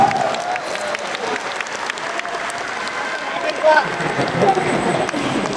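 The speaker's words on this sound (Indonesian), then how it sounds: "Boleh tepuk tangan buat semua yang hadir di sini" Applause from a crowd of volunteers at an Amanat Indonesia gathering, steady clapping spread through the room with a speaker's voice heard over it.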